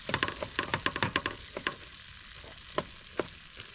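Rice with teriyaki in a pan on low heat at a riverside camp, with a soft continuous sizzle and a quick run of scraping, clicking stirs followed by a few sparse taps.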